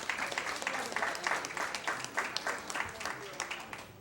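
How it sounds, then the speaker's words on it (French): Fundraising gala audience giving a round of applause, fairly faint and distant clapping with uneven rhythm, while someone talks over it. "nous avons un applaudissement"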